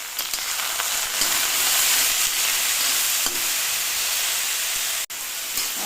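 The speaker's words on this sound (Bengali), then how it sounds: "অর্ধেক ভাজা হয়ে গেছে।" Small pieces of bottle gourd frying with salt in a pan, a dense steady sizzle and hiss up close with faint stirring scrapes and one brief drop-out near the end.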